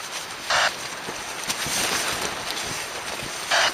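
Gusty wind buffets the microphone outdoors on a hiking trip, a steady broadband roar that rises and falls, with two sharper buffeting bursts near the start and end.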